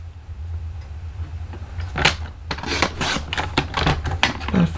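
Paper being trimmed down to size for a handmade Christmas card, a run of sharp, close slicing and shuffling strokes starting about two seconds in, repeating irregularly over a steady low hum.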